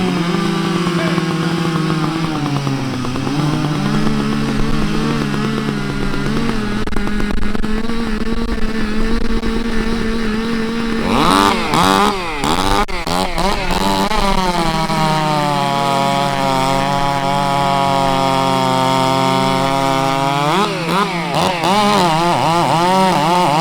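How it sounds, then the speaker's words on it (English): Four Stihl and Husqvarna chainsaws run together while cutting blocks, forming a loud, layered buzzing drone. Several engines rev up and down in overlapping waves, with sharp surges and bogging as the saws bite into wood. "Ain't that so cool sounding all 4 saws running like that?"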